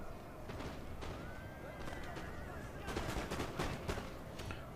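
Musket gunfire crackles in a Napoleon Total War battle, a dense continuous background of distant rattling volleys with sharper clusters of shots toward the end, over steady ambient din.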